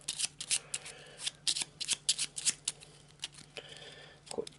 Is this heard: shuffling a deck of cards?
yes